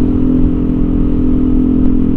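A Yamaha NMAX 155 scooter fitted with a TZM racing exhaust idles close by, giving a steady, loud low-pitched burble with a constant hum and no speech.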